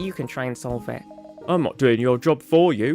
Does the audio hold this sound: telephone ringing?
yes